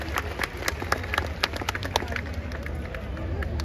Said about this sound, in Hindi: एक बार जोरदार तालियां नैना जायसवाल के लिए।